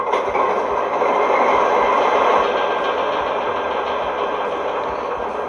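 A powered model train runs with a steady rumbling whir and faint rhythmic clicking of wheels on track, close and continuous, with no talk over it.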